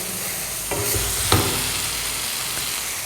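Butter chicken masala sizzling and frying in a pan with coriander powder and salt while a utensil stirs it, a steady close hiss broken by a few scraping strokes, no talk.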